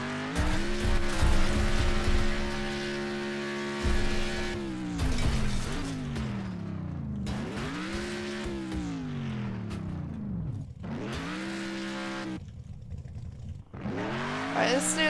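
Cars race and skid in a next-generation car game demo, with loud engines rising and falling in pitch through repeated gear changes and revs, broken by brief gaps and tire noise.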